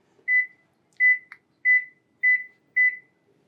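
Microwave oven signalling the end of its cycle after cooking food with low oil: five short, even electronic beeps at a steady pace, loud and close with nothing else sounding.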